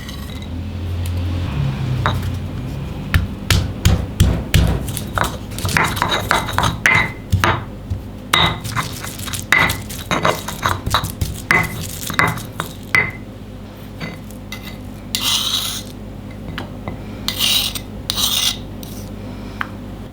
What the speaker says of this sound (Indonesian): ada dua siung bawang putih dan ebi kita ulek